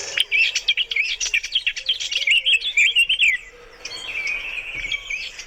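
Up close, a blackcap pours out a fast, rich warbling song in two phrases, a wood pigeon faintly cooing somewhere behind.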